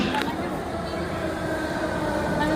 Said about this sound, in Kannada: ಈಗ ಟ್ರೈನ್ ಬಂತು.